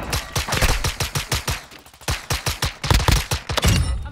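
Rapid pistol fire in Call of Duty MW2: roughly eighteen sharp, loud, close shots come in quick bursts with brief pauses, then a short trailing thump at the end.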